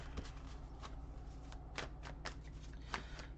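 Tarot cards being shuffled by hand, a run of soft riffling slaps and crisp card snaps close up, irregular bursts over a low steady hum, with no voices.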